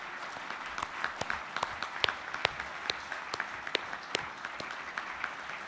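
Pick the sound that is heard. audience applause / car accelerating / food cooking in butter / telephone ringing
audience applause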